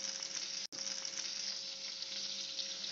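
Butter melting in a pan, without oil, as the base for paneer butter masala: a soft, continuous close sizzle and crackle with one brief dropout early on and no talking.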